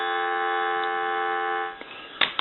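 Steady dial tone from a repaired red Western Electric 2500 desk phone holds evenly for under two seconds, then stops and gives way to a few soft clicks and handling knocks.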